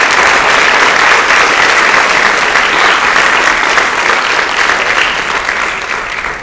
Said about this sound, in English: So they deserve a round of applause for that.